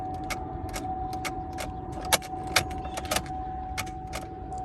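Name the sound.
car starter motor clicking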